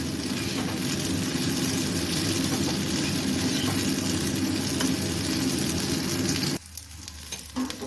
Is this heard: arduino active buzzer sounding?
no